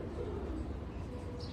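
A single pigeon gives a soft, low coo close by, a brief murmuring call against quiet background hiss.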